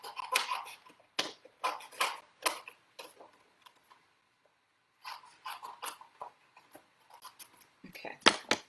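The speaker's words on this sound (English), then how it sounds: "I'm going to cut this out." Scissors snip out coloured paper hydrangea flowers in quick clusters of crisp, close cuts, pausing briefly in the middle before the snipping resumes.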